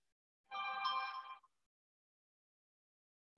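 A phone ringtone sounds once in a short burst of about one second, a bright tonal chime at moderate volume with no talk over it, followed by silence and a faint click at the end.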